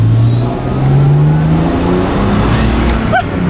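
A BMW 325 with turbo and supercharger accelerating hard in second gear, the engine note climbing steadily in pitch, loud and close from inside the car, with a brief high whistle near the end.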